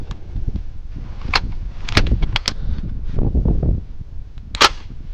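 Sharp gunshots ring out in short bursts, separated by clanking mechanical noise, with a final loud shot near the end.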